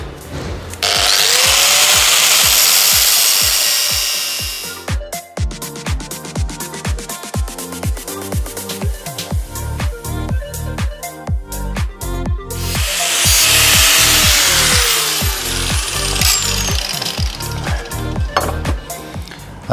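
Power tool cutting through side skirt material for a Mazda MX-5 Miata NC, loud and close: two long harsh grinding bursts separated by a stretch of choppy, rhythmic cutting noise, with no talking.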